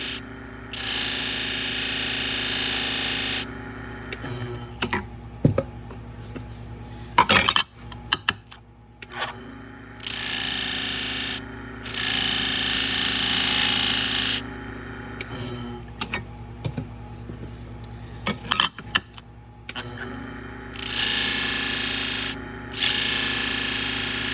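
Damaged salon shears being convexed on a sharpener, repeated bursts of gritty grinding lasting a few seconds each, separated by quiet gaps and small clicks and taps of handling.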